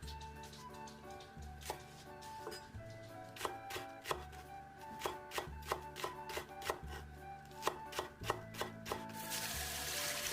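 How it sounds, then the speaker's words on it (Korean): A knife finely chopping the white part of green onions on a board, quick steady clusters of close, crisp taps with brief pauses between bursts, no voices. "대파는 흰 부분으로 곱게 쫑쫑 썰어 준비합니다"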